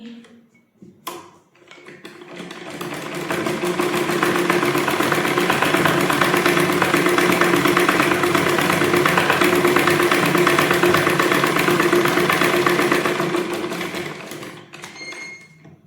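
A sewing machine runs steadily with its presser foot raised during a basic stitching lesson, a close, even mechanical whir with rapid ticking that builds up, holds for about ten seconds, then winds down.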